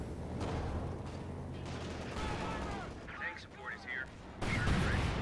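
Butterfly bombs rain down in Company of Heroes 2, a dense rattle of small explosions and crackling gunfire rolling across a loud battlefield, with a voice talking over the chaos.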